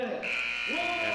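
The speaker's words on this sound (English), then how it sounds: "And that's the buzzer." A final buzzer sounds at an alumni basketball game in a high school gym, a sustained electronic tone holding for about a second over crowd murmur and a commentator's voice.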